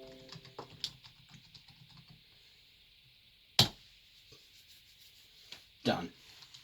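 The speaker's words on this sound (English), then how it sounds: "Typing password." Password being typed on a computer keyboard of a Dell Optiplex 790 desktop, heard as a few faint, scattered key clicks with a couple of sharper, louder taps in a quiet room.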